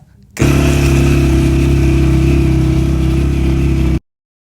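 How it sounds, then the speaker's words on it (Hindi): A mechanic's borrowed motorbike rides along the road toward Karimabad in Hunza, its engine droning loud and steady with a strong low hum for several seconds after a quiet start. "तो मैकेनिक की बाइक लेके हम निकले दोबारा।"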